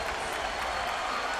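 Applause fills an arena at a 1998 New York Knicks vs Miami Heat playoff basketball game, a dense continuous clapping wash from a large crowd, moderately faint.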